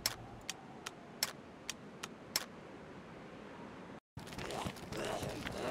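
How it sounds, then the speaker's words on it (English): Weapon fire mode switching in the DayZ video game gives several sharp, quiet mechanical clicks at irregular intervals over a soft hiss, then the background briefly drops out before a louder rustling noise. "You now get a sound effect switching between fire modes."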